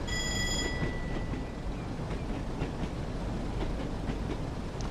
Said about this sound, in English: I love the track drone noises on this unit, it has to be said.